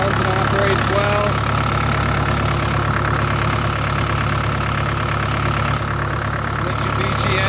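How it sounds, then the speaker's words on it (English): A 1991 Cat E110B excavator's Mitsubishi diesel engine idles steadily and loudly at close range, a constant rumbling drone with a faint knocking texture throughout. "The engine runs and operates well."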